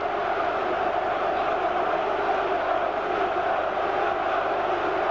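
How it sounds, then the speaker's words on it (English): Football crowd at a Liverpool versus Chesterfield match roars in the stadium, a constant, dense, far-spread wall of cheering with no break. "Norris turns to the crowd and urges them to cheer more"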